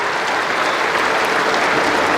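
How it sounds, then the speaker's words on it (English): Spectators at Trent Bridge on their feet clapping a departing batsman after a quick century in a Test match; sustained, even, full-bodied applause from a big crowd, loud and unbroken throughout. "to applaud a very positive, typical Ben Duckett innings"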